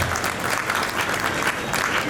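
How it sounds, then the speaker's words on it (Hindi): Thunderous applause from an audience at an evening poetry gathering during a Durga Puja festival, a dense steady wash of clapping that holds throughout at close range. "मेरे सम्मान में जितनी घनघोर तालियां आपने बजाई हैं"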